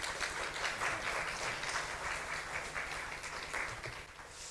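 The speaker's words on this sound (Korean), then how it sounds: "우리 박수로 환영할까요?" A church congregation at a Korean Sunday morning service applauds to welcome a guest pastor, with sustained, fairly loud clapping from many hands filling the room throughout.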